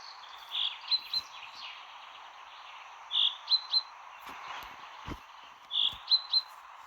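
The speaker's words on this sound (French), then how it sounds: "Oh, il va pas fermer sa gueule, l'oiseau?" Bird chirping in the video game Sally Face: short bursts of two or three bright high tweets repeating about every two and a half seconds over a quiet background hum, with no voices.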